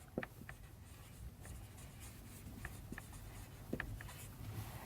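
Pen scratching across paper while writing out an accountancy entry, soft irregular strokes and taps close by, faint and alone over a low background hum.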